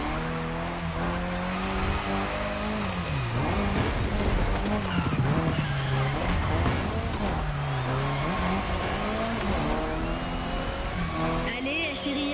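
Video game car drifting in The Crew Motorfest: a constant engine drone shifts pitch as the car slides, with tire squeal running under it. Loud, continuous and close, with a commentator talking over it throughout.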